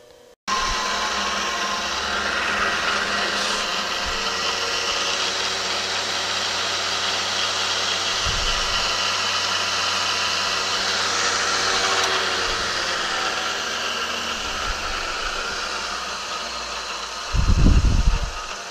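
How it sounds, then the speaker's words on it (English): A machine drills and taps a 1/4-20 hole with a steady, close motor hum and whine that runs unbroken, with a few soft knocks and a louder thump near the end. "we are going to drill and tap"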